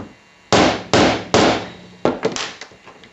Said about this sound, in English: I'm supposed to use a rubber mallet so that I don't damage it.